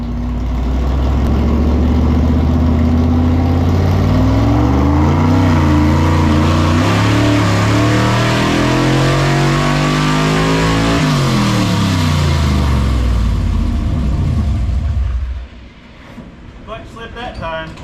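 Car engine revving hard on a chassis dyno with a bigger carburetor, carb spacers and nitrous, running rich: a loud sustained pull with rising and falling harmonics that drops off sharply near the end, with faint voices afterward.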